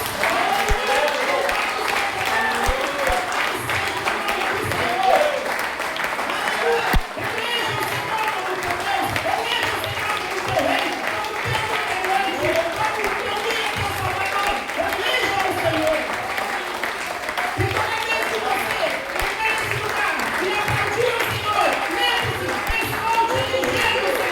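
A church congregation applauds together during a worship service, a dense, sustained wash of hand claps with crowd murmur that carries steadily throughout, with no one speaking clearly over it.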